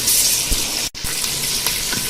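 Garlic ginger paste hitting hot oil with golden fried onions, a steady close hiss and sizzle of frying with a brief break midway and small spatters, no talk.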